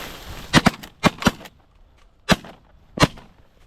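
Shotguns fire during a duck hunt in a corn field: six sharp, loud blasts come in quick pairs and singles over about three seconds, each with a brief decaying tail against quiet outdoor background.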